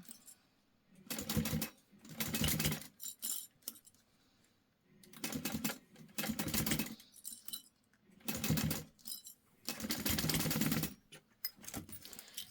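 A sewing machine stitches zipper tape onto a jelly vinyl pouch, backstitching at the start and end; quiet, short bursts of rapid stitching, about five of them, separated by brief pauses.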